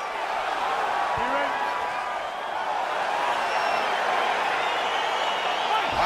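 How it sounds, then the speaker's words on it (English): Steady wash of excited arena crowd noise in the fighting game EA Sports UFC 4, a dense roar of cheering and clapping that holds loud and even throughout as a bout begins. "crowd getting excited as this fight gets underway"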